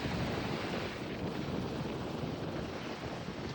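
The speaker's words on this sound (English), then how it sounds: "Surf's running pretty good." Surf and strong wind at Bob Hall Pier in Corpus Christi on a windy day form a loud, steady, unbroken roar of crashing waves and gusting air that fills the whole stretch.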